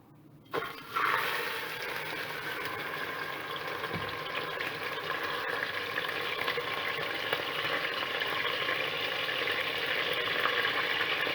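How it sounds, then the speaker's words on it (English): Beef searing in hot oil in a pot for a pot roast, a steady broadband sizzle that jumps in loud after a brief quiet start and keeps hissing evenly throughout with no talking. "we're going to sear our beef."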